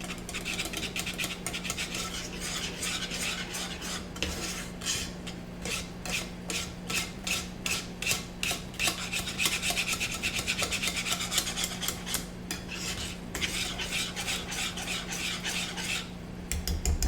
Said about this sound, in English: I really just want to make sure that the consistency on this is like nice and smooth and not clumpy, and that's why I brought the whisk back out.